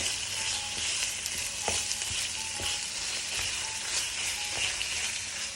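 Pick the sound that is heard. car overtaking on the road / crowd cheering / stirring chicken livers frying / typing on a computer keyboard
stirring chicken livers frying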